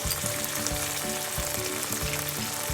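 Garlic lightly cooking in hot oil in a pan, a dense, steady close-up sizzle with regular soft knocks from stirring underneath.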